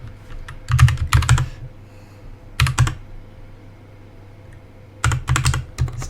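Close keyboard typing at a computer, entering a PowerShell cd command to change folders: three bursts of quick clicking keystrokes separated by quiet pauses, with no talking.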